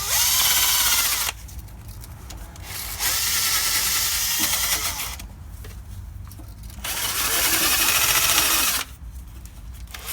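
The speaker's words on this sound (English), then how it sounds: "I want to wire wheel this." A power wire wheel scrubs dirt off a brake line on a mk6 Ford Transit in three loud, buzzing bursts of a couple of seconds each, separated by short pauses, with no speech.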